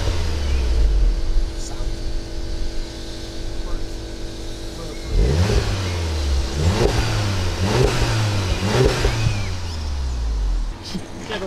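A car engine with standard exhaust revs up several times in quick bursts, rising and falling, with people talking close by.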